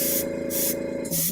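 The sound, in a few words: paint spraying onto a sketch card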